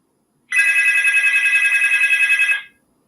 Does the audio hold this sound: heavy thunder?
no